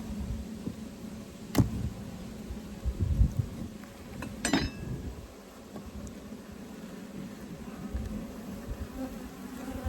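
Honey bees hum in a 24-frame Layens horizontal hive during a winterizing inspection, their soft continuous buzz broken by occasional clicks and knocks of frames being handled.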